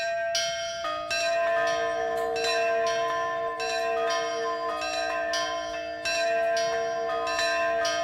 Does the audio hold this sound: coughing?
no